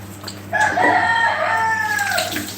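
A rooster crows once, close and loud, a long rising and falling call over steady low background hum.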